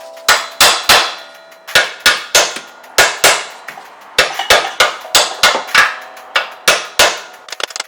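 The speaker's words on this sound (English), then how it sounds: "After hammering at it for a little bit, it looked like I was getting some movement from side to side" A hammer bangs repeatedly on a stuck shock-absorber piece lodged in an old BMW steering knuckle, about twenty sharp metallic blows in irregular bursts, close and loud, with short ringing decays between strikes.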